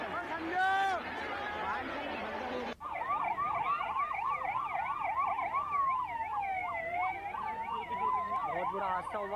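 Several wailing ambulance sirens rise and fall at the scene of a stage collapse at the Kalkaji temple in Delhi. They sound loud and continuous, overlapping one another, after a burst of crowd voices.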